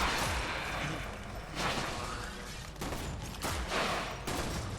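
Energetic rifle fire from the Flux Rifle in the video game Warframe, with dense bursts of shots and sharp attacks repeating across the clip over a busy, noisy game mix.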